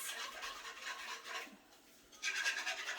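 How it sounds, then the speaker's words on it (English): Soup mixture being whisked in a bowl: a steady, close scraping swish that pauses briefly partway through, then resumes at full strength. "I'm just going to whisk and whisk and whisk and make sure that there is no lumps in this"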